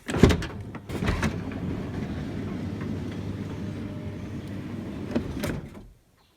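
A motor drives the power sliding door of a 2007 Chevy Uplander, which has intermittent faults. It makes a steady mechanical hum that runs for about five seconds between sharper clunks at the start and near the end, then stops, with no talking.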